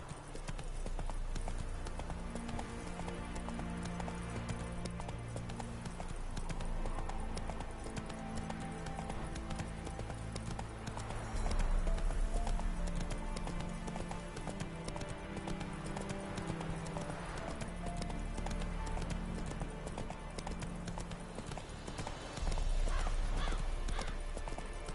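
Roach the horse galloping in The Witcher 3, with rapid rhythmic hoofbeats over a continuous music bed and a whinny now and then.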